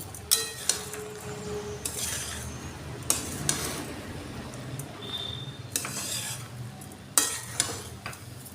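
Veg pulao with sugar, cashews and raisins being stirred in a pot, heard as close, irregular metallic scrapes and clinks of a spoon over a faint sizzle, with no talking.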